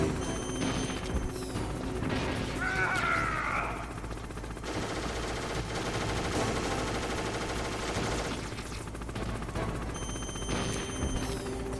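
Sustained heavy gunfire aimed at F-16 jets in Metal Gear Solid rattles on for several seconds with dense clattering bursts, mixed with crashes, a whining sweep and mechanical noise.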